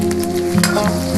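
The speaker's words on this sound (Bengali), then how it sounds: "এবার এগুলোকে আমি ভালোভাবে কষিয়ে নেব।" Garlic, coriander and cumin pastes sizzling as they fry for a jackfruit curry, a brief close crackle and sizzle over a steady background hum.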